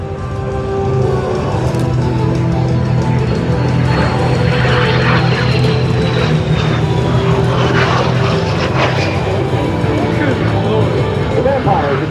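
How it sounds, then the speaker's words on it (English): A de Havilland Vampire jet fighter approaching, a loud, continuous engine roar with a rising whine that fills the whole stretch, with voices mixed in underneath. "Jerry's approaching from your right into the de Havilland Vampire."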